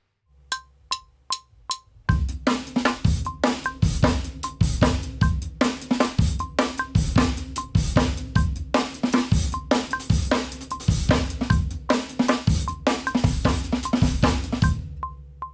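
Drum kit groove with hi-hat, snare and bass drum: a few sharp bright clicks open, then a steady driving beat of crisp hits and thumping low strikes, loud and close, running without any talk.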